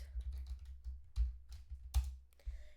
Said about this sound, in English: So we're going to be typing in define main.